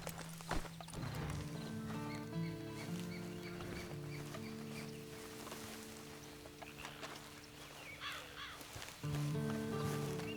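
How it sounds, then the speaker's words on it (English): Steady clip-clop of horse hooves trotting in Red Dead Redemption 2 over sustained musical tones, with a brief whinny early on; fairly loud and continuous. "And you better get on this horse."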